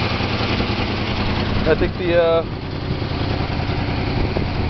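A 1969 Oldsmobile Cutlass S, a W-31 clone project car with its original single exhaust, idles with a steady low rumble throughout, while someone speaks briefly over it.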